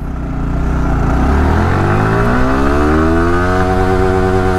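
A 2024 Yamaha R15S motorcycle engine revs up in first gear, loud and close, its pitch climbing steadily as it accelerates.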